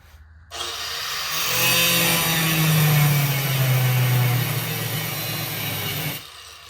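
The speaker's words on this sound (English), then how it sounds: "take an angle grinder, cut this to the size I need it" An angle grinder cutting a metal angle bracket, a loud steady whine with a gritty grinding edge that holds for about six seconds and then stops abruptly.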